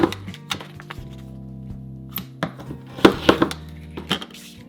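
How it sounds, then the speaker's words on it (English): A blade slicing through a multi-layer stencil sheet, heard as a series of sharp knocks and cutting thuds at an uneven pace, close and fairly loud over a faint steady hum. "So now I'm going to go ahead, quickly slice through each of those."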